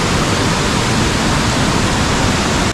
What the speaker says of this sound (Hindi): रूट ब्रिज के दोनों तरफ से बह रहा है ये जोर जोर से झरना।